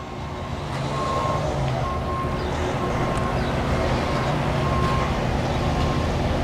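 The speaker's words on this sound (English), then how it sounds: "It is a tow truck." A tow truck rolls past on a roadway with a steady engine rumble, and repeated reversing beeps sound at regular intervals over the traffic noise. The truck is moderately close, and no one speaks.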